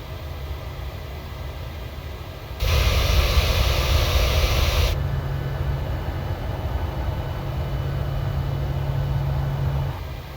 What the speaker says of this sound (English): so we're going to set flap 1. Flaps extending.